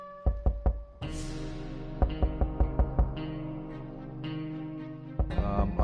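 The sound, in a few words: door sound in video game 60 Seconds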